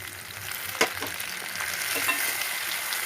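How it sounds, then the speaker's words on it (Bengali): A spoon stirs cumin and radhuni spice paste as it sizzles in a pan for Bengali sukto. The frying hiss is steady and close, with a sharp scrape of the spoon partway through. No one talks. "এখানে আমি জিরা আর রাঁধুনি পেস্ট করে রেখেছি, সেটাকে দিয়ে দেবো"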